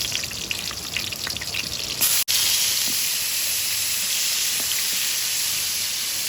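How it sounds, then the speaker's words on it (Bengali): Pumpkin pieces frying in a hot pan give a steady, close broadband sizzle and hiss. It runs on without a break, with a brief cut near the middle, and no one speaks. "গরম ফ্রাই প্যানে একবারে কুমড়োগুলোই ভেজে নেব।"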